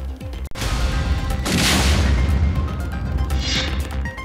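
IED bomb explosion in Narayanpur, Chhattisgarh: a loud, sustained roaring boom with rumbling low end and crackling debris that lasts several seconds, heard up close with no voices.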